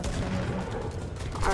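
Heavy shotguns firing in an online shooter game, a dense burst of loud overlapping blasts filling the short stretch without pause.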